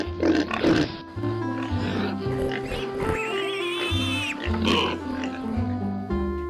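Pigs grunting and oinking as a sound effect in a children's story, a steady chorus of close, loud snorts and squeals with a tonal whine rising over it, no speech.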